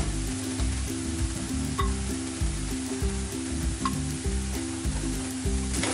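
Whole and ground spices sizzle and crackle in oil in a pan as the base for chicken keema, a close, steady frying hiss with stirring and no talk.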